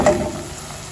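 Onions sauté in a hot pan for stuffed-grape-leaf filling, giving a steady close sizzle with a brief stirring scrape at the start and no talking.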